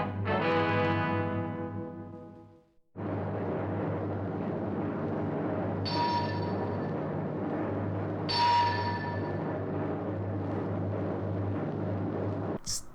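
The closing sound of the TV show Dragnet: a loud, sustained low blare that fades out, then a long, heavy droning rumble with two sharp accents and an abrupt cut at the end.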